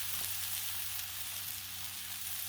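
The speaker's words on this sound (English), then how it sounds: "Smoking hot. Smoking. And I'm gonna put the filet right there." A pork loin filet sizzles on a smoking-hot Blackstone griddle, a steady, fairly soft hiss running unbroken over a faint low hum.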